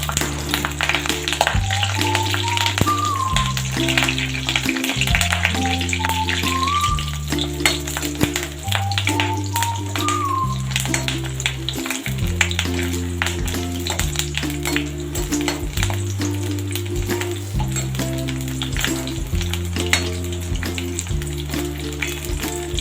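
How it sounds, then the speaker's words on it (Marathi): Curry leaves and garlic frying in hot oil for a Malvani-style prawn curry, a dense steady sizzle and crackle running throughout under loud rhythmic background music. "आणि हा कढीपत्ता टाकणार आहे हे चांगलं फ्राय करूया"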